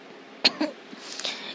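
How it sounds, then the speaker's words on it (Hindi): A single sharp cough followed by a couple of softer coughs and throat noises, close and brief, against a quiet background. "मुंह से एकदम से पानी बाहर आ जाता है और खांसने लगती है"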